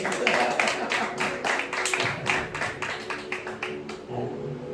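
A church congregation claps to welcome visiting family, a scattered round of hand claps from a crowd indoors with a voice speaking over it.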